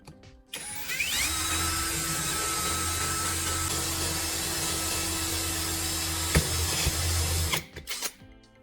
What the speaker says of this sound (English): Use a hand drill and go slowly.